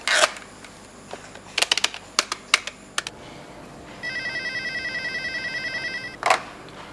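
A telephone rings with a steady electronic trilling tone for about two seconds, preceded by several sharp clicks and knocks close by in a quiet indoor room.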